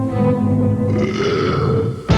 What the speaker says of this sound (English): the cast would belch their way through their college fight songs if given the green light